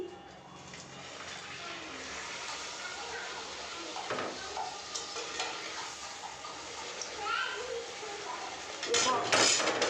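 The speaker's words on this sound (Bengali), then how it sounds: "ভেজে আগে লুচি ভেজে নিচ্ছি" Luchi frying in hot oil, a soft continuous bubbling sizzle at moderate distance with a few louder spits and clatters near the end, while someone talks over it.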